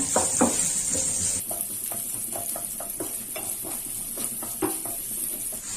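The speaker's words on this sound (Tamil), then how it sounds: "வெங்காயம் வந்து நல்லா வதங்கிட்டுங்க" Chopped onions sauté in hot oil with cumin and urad dal for a moong dal curry, a close steady sizzle punctuated by regular scraping taps of a spoon stirring the pan, with no voices.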